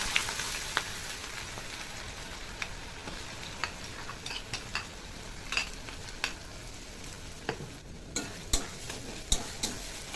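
Chopped onions sizzle and fry in a pan of oil, a steady close hiss with scattered crackles and occasional sharp ticks of stirring, no voices.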